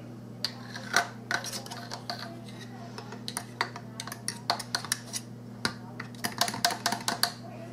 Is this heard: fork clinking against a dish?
yes